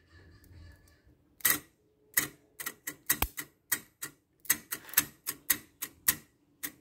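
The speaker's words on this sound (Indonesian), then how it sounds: "ada bunyi selenoidnya cetrek gitu ya" A headlight high-beam solenoid switch on a projector bi-LED/HID lamp setup clicks sharply and repeatedly, about a dozen crisp close clicks in an irregular run after a quiet start.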